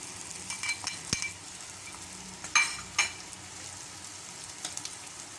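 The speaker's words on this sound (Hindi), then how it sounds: "इन हरी मिर्चों को मैंने इस मसाले में अच्छी तरीके से भून लिया है।" Green chillies frying in ground masala for Hyderabadi hari mirchon ka salan, a soft steady sizzle in the pan broken by several sharp clinks of a metal spoon stirring against the pot.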